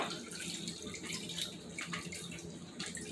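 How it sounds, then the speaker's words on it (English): Water and pumpkin seeds pour through a strainer into a bowl, a continuous soft splashing trickle heard close up and fairly quiet, with no talk. "I'm literally just gonna pour these over into this bowl. Just drain the water."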